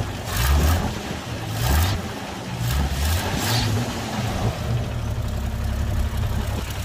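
A Toyota Land Cruiser FJ60 engine with a broken exhaust runs nearby, a loud, rough low rumble with a couple of revving surges before settling into a steady idle.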